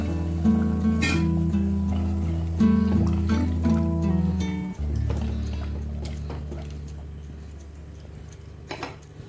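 Water poured into dhaba-style chicken curry cooking in a pan, a steady liquid trickle and splash lasting about five seconds under a tonal background, then fading to a quieter simmer.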